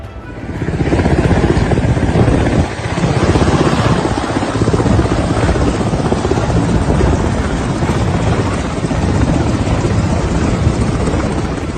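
A helicopter in Panjshir, Afghanistan, with armed fighters nearby, roars loud and close with a steady, dense rotor and engine drone that holds throughout.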